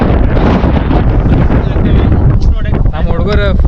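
Strong wind buffets the microphone on Mullayanagiri peak in fog, a loud continuous low roar and rumble that dominates, with a person's voice breaking through under the gusts toward the end.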